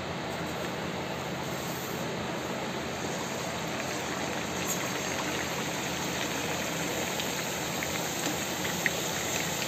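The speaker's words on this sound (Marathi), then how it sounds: "आता कढईमध्ये टाकणार आहे. तेल पण छान गरम झालेलं आहे." Bhatura puris frying in hot oil in a kadai, a steady, even bubbling hiss that runs unbroken throughout at moderate volume, with no voices.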